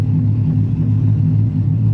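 A car engine fitted with a Mark82 cam idles as heard from inside the cabin, giving a steady, deep, lumpy rumble throughout with no talking.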